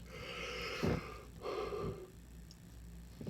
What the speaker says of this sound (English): I apologize for all the yawning.